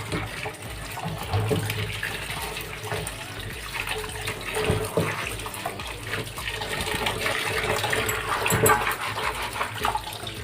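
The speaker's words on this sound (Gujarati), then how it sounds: "આપણે પાણીથી તેને ઘસી હાથ વડે સારી રીતે ઘસી અને ચાર પાંચ પાણી વડે આપણે ધોઈ લઈશું" Cluster beans being rubbed and washed by hand in water, with continuous sloshing and splashing that holds steady and close throughout, no voices.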